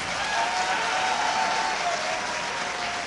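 Steady, dense clapping from an audience at a medical college poetry gathering, even in loudness from start to finish with no talking heard.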